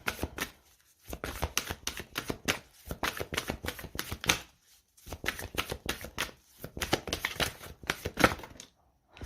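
Tarot cards being shuffled by hand during a Gemini horoscope reading, producing close, crisp riffling bursts in several repeated runs separated by brief pauses, with no talking.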